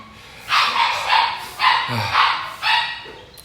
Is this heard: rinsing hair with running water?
no